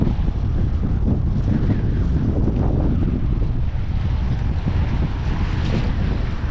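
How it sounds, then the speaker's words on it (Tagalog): Strong wind roars steadily across the microphone, a loud continuous buffeting rumble with a faint wash of water beneath and no voices. "Lakas kasi ng hangin."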